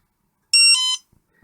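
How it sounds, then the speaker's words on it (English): A Charsoon BattGo 1300/1500mAh smart battery gives a single short electronic beep, shifting pitch partway through, as its connector is pushed fully in, clear and close against silence. "We get a beep"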